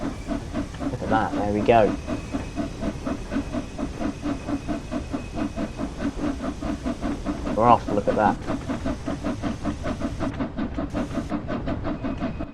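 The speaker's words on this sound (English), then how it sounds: "we'll open the regulator a bit more and put some more steam in the cylinders" Flying Scotsman steam locomotive in Train Sim World pulling away, with steady steam hiss, rhythmic chuffing and a sharp whistle-like burst near the start and again midway; someone talks over it.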